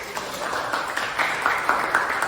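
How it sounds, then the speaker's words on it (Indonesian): Classroom applause in an Indonesian school lesson, a dense patter of many hands clapping together at moderate volume, steady and sustained throughout with slight swells. "tepuk tangan dulu"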